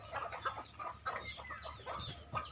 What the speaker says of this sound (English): The hens cluck and the cocks crow to mention their presence.